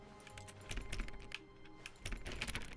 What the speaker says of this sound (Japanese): これね、クリックするたびにゲームの中でタップ音が聞こえるのよ。